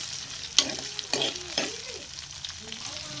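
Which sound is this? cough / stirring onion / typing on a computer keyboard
stirring onion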